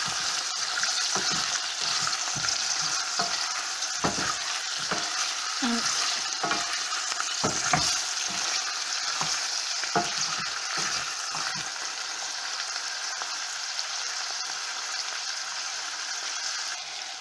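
Pork pieces fry in a pan while being stirred, a steady sizzle close by broken by repeated scraping and clattering strokes of a utensil against the pan.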